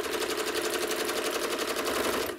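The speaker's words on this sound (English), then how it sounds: "I'm going to stitch a curve from corner to corner" Sewing machine stitching a curve from corner to corner on a quilt block, a fast steady rhythmic needle chatter running close and continuous, then easing off at the end.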